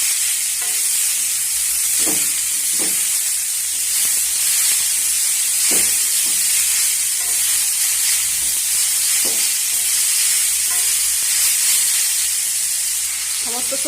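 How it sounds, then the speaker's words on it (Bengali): Potato, carrot and beet sizzle loudly in a pan with onion and chilli, a constant hiss of frying broken by repeated scraping stirs, with no voices over it. "এবার সমস্ত সবজি আমি পেঁয়াজ আর লঙ্কার সঙ্গে ভালো করে নেড়ে চেড়ে ভেজে নেব।"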